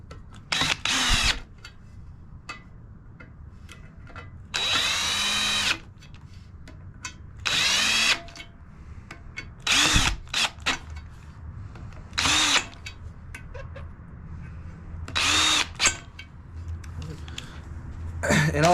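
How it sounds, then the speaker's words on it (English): A power drill drives screws into a heavy 15-inch Sundown Audio subwoofer during a recone, whirring in short bursts of one to two seconds with quiet gaps between them and some faint throat clearing. "And just screw them down"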